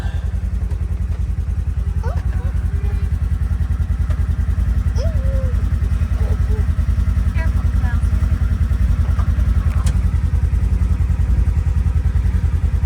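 A Polaris utility vehicle engine idles, heard from inside the small cab: a steady, continuous low rumble with constant loudness throughout, with faint clatters and thin tonal squeaks above it.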